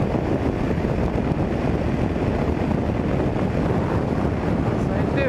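Heavy wind roaring across the microphone of a BMW G 650 GS motorcycle on the move, a constant loud low-pitched rush lasting several seconds, with a faint voice barely surfacing beneath it.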